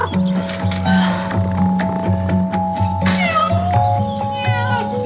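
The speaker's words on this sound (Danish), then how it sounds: "Dumme kat!" A cat meows repeatedly in a domestic scene, several drawn-out, wavering cries close by, with a person's voice and some background sound mixed in.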